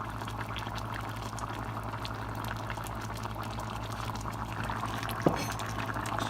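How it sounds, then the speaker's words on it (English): Beef short ribs braising in liquid inside a pot, checked after half an hour in the oven, bubble with a steady, continuous low simmer and a single brief click near the end. "She's bubbling."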